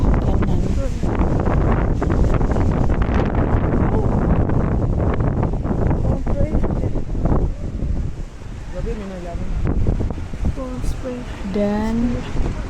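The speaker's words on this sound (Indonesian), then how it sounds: "wah udaranya berangin sejuk kan" Strong wind buffets the microphone in heavy gusty rumbles outdoors in Madinah, easing for a moment before returning, with people talking nearby.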